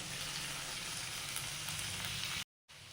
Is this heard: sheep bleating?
no